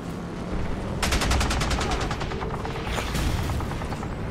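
Automatic gunfire bursts out in the Starhawk video game, a rapid rattling string of shots from about one second to three, then a shorter burst, over a steady background of game noise.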